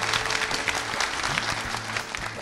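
Steady, dense clapping from a studio audience at a Nepali folk singing competition after a performance, continuous and fairly close.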